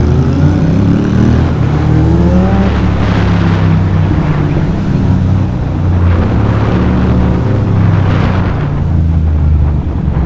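Motorcycle ridden through dense city traffic between Brooklyn and Times Square, its engine drone loud and continuous with rising and falling revs throughout, close to the rider with no talking.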